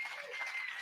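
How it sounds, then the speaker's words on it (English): A conference audience applauds, a brief, faint wash of many hands clapping at some distance, with no voices over it. "Let's give it a round of applause to them and everybody that came."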